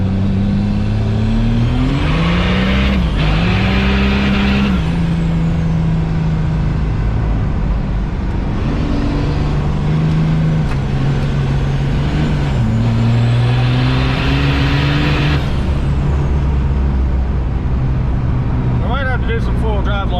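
A truck engine revs under load during transmission testing with an aftermarket heat exchanger transmission pan, a loud, steady close drone that climbs in pitch twice and then settles back between the runs.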